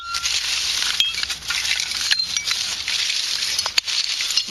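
Broken jade glass shards clinking and scraping as they are dug through at an abandoned house dump site, with steady gritty rustling and scattered bright chinks close by.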